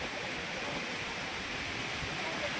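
Drizzling rain and rolling sea waves on a Maharashtra beach merge into one even, broadband roar that holds steady throughout without clear breaks.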